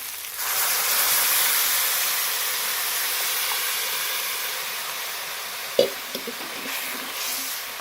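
Hot tempering (phodni) poured into Maharashtrian yogurt kadhi, a broad, steady hissing sizzle that slowly settles, with a couple of brief utensil knocks near the end.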